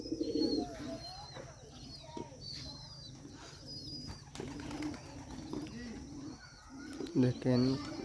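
Bombay pigeons on a sunny rooftop give a few soft coos amid background activity and other faint sounds, with a clearer burst of cooing near the end.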